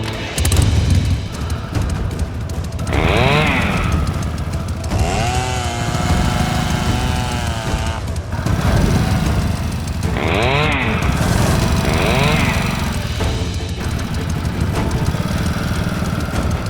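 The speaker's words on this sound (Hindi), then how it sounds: "बाइक स्टार्ट कीजिए।" A motorbike engine runs close and loud, rising in several revving bursts between stretches of steady idling throughout.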